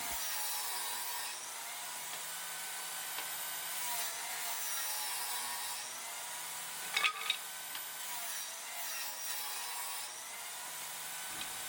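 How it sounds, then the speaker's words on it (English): A saw cuts wooden pieces for rustic mirror trim in a workshop, giving a steady, continuous rasping cut with a couple of brief knocks partway through, and no talking. "I just went through and cut all the pieces for the mirror"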